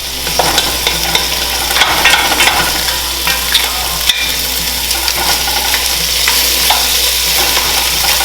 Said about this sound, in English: I'm going to let this cook for 10 minutes with the shells